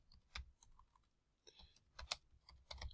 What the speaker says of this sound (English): all typing going wrong here